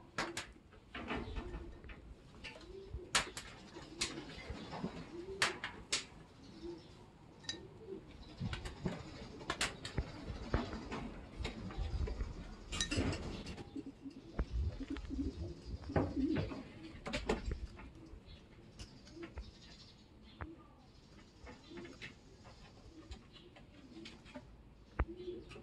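A young racing pigeon with an injured leg coos softly and repeatedly nearby, low throaty calls under faint background rustling and occasional clinks.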